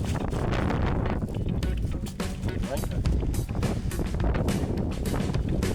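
Gusty wind buffets the microphone outdoors under grey skies, a rough continuous roar with rapid fluctuating bursts, close and fairly loud; a voice may be faintly mixed in.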